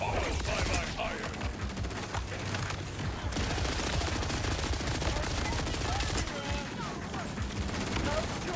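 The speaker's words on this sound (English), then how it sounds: "Get critical hits with the assault rifle." Assault rifle gunfire in the video game Borderlands 4, dense sustained bursts of rapid automatic shots with booming impacts, loud and continuous, briefly easing near the middle and end.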